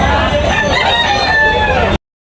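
A loud, close rooster crows at a chicken market in Tabunok in one long continuous call lasting about two seconds, then it cuts off abruptly into silence.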